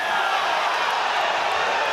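Dense, steady roar of a rugby stadium crowd at an England versus France Women's Six Nations match, a continuous wash of massed voices reacting without distinct cheers or peaks.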